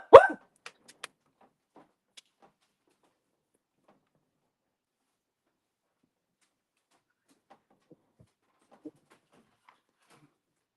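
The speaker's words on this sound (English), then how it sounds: "It will stop his barking so that it's not directly in my face." A dog barks once sharply at the start, followed by a few faint ticks and small sounds across an otherwise quiet room, with a brief soft yip near the end.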